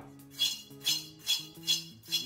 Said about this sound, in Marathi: कढईत आता एक मोठा कप भरून शेंगदाणे घालून घेऊया